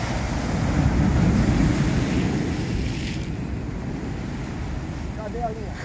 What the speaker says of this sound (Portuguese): Olha a onda, viu?